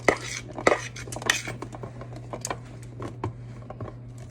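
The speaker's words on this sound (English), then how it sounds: "And then the chickpeas go on one side of your baking sheet." Chickpeas tipped and spread across a baking sheet for roasted lemon asparagus, a run of light scattered rattles and clicks over a steady low hum, loudest at the start and thinning out.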